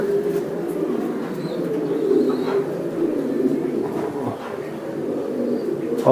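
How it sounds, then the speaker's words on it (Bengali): Racer pigeons at a large farm coo in a steady, low murmuring chorus close by, continuous throughout with faint background noise. "এটা এ গ্রেড কবুতর"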